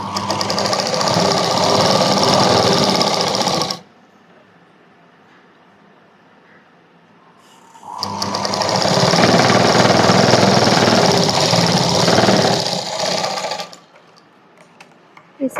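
A sewing machine stitches lining cloth on a small child's frock in two long, steady, loud runs, separated by a quiet pause of about four seconds, with no talking.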